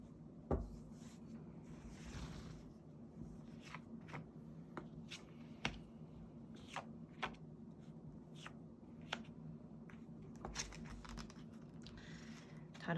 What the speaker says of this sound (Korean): 4번 뽑으신 분들 위해서 카드를 섞고 한번 보겠습니다